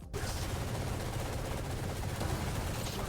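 Dense, continuous automatic gunfire from a shooter video game, a steady loud barrage filling the whole moment with no talk over it.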